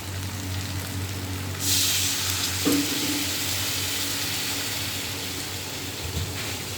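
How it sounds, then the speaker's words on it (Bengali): Water is poured into a pan of sizzling spiced fish curry, the steady frying hiss swelling into a louder steamy rush as the water hits, then settling into a low bubbling sizzle. "এই যে কষানো হয়ে গেছে, এবার জল দিয়ে দেবো"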